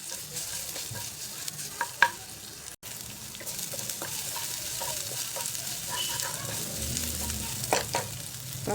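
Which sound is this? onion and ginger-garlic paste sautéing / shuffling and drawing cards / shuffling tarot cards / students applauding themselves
onion and ginger-garlic paste sautéing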